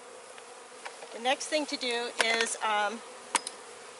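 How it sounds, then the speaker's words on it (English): Honey bees hum in a steady background buzz while a package of bees is installed into a hive, with someone talking clearly over the insect drone. "is to release the bees into the hive with her"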